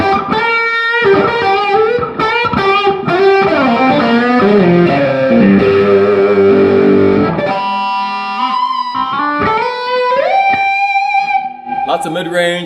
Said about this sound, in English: So here's the overdrive through the first channel.